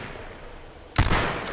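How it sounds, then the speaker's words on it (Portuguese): A sudden loud burst of gunfire cuts in from quiet in the online survival shooter H1Z1, ringing on with a sustained rattling tail. "Eu dei um tiro, dois tiros, cara."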